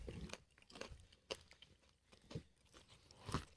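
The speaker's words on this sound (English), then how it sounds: "Love a good crunch." Someone bites and chews thin-crust pizza with red sauce, the close crunchy crust giving several irregular crisp crunches and crackles with short quiet gaps between bites.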